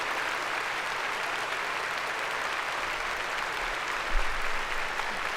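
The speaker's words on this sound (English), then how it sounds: "Where's the damn applause? This is a standing ovation." Dense, sustained applause from a large crowd, steady and loud throughout with no break.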